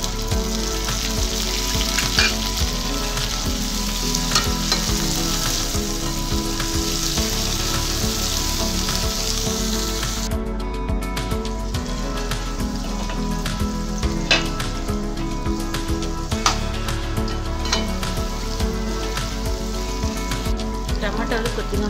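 Chopped onion, green chilli and tomato frying in a pan for a paneer dum biryani. A loud, steady, dense sizzle runs throughout and thins and brightens slightly partway through.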